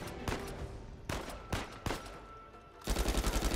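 Sniper gunfire in the Uncharted 4 A Thief's End video game: four sharp, separate shots spaced about half a second apart, then a fast burst of automatic fire at the end.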